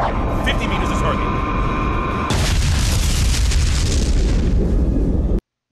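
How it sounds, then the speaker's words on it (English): A huge nuclear torpedo blast from a submarine action film, a loud sustained roaring boom with dense rumble that surges partway through and cuts off abruptly at the end. "Basically a nuclear torpedo."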